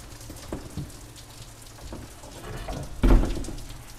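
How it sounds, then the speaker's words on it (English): Steady rain patters on a surface nearby, with a soft thump or door knock near the end. "it's raining right now"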